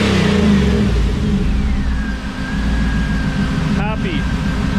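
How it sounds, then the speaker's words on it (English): An LS-swapped 1957 Chevy V8 revs up loudly, then drops back toward a steady idle, with a high whine running through the rumble and a brief squeaky chirp near the end. "It revs, goes back down to idle."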